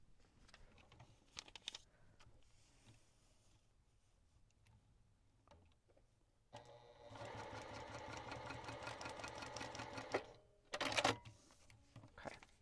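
Sewing machine stitching fabric over foundation paper while making a thorny plant quilt block: brief rattling bursts early on, then a steady fast-running whir for about four seconds and one more short burst near the end, heard close with no talk.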